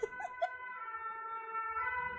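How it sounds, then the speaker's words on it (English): An emergency siren passes close by outdoors, its steady wailing tone with layered harmonics holding clearly over faint background noise and a few brief soft knocks at the start. "Siren came close to us."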